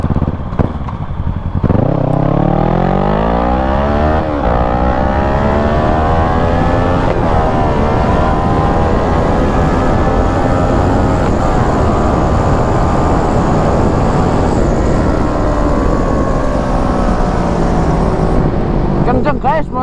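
Kawasaki ER6n motorcycle engine revving up close while riding, loud and continuous, with repeated rising pitch sweeps through the gears.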